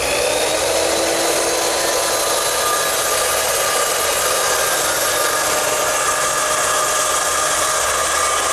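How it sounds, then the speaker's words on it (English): A circular saw running a straight edge and gauge block makes rip cuts in wood for a Shaker step stool, giving a loud, steady, unbroken whine and grind that stays close throughout. "to make the vertical or the rip cuts, I use the same gauge block, straight edge, and my circular saw"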